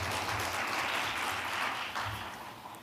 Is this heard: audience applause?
yes